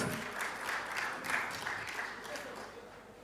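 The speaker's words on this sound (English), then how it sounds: "A warm, warm round of applause." Audience applause at a live advertising industry report unveiling, a steady wash of many hands clapping that swells and fades slightly over three seconds, with faint voices mixed in.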